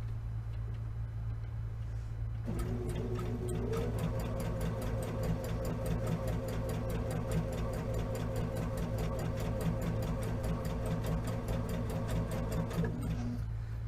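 A Baby Lock Jazz sewing machine chain-piecing a quilt block at a 2.5 stitch length starts up after a couple of seconds and runs in a steady, fast, ticking whir for about eleven seconds before stopping, over a constant low hum.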